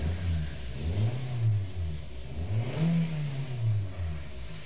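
A car engine, running again after its battery was disconnected and reset, revs up and down in several smooth rising and falling sweeps above a low idle, close and steady.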